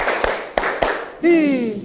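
A standing class claps in unison on a count: three sharp, evenly spaced group claps ring out close by, followed by a voice speaking.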